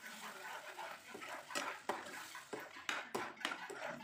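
Ground spinach being stirred into onion masala in a pan, soft scraping and light clinks of a spoon against the pan in an irregular rhythm, faint and close.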